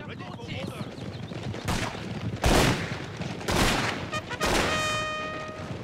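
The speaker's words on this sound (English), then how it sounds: "So here they're gonna get shot up a bit." Gunfire crackles through a Fall of the Samurai battle as troops get shot up: dense volleys and bursts of rifle fire swell in several loud waves over a steady battlefield din, with a faint sustained tone near the end.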